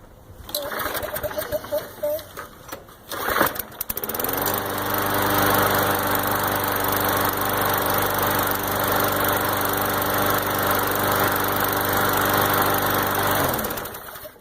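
A lawn mower engine catches after two pulls and settles into a steady, loud running drone that continues to the end.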